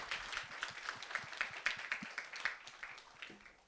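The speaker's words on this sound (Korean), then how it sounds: "감사의 박수 올리도록 하겠습니다" A church congregation gives thankful applause after a Sunday sermon, faint, distant clapping in a fairly even rhythm.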